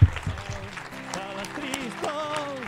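A small crowd at a mural inauguration claps, scattered and moderate applause with voices talking over it and a brief thump at the start.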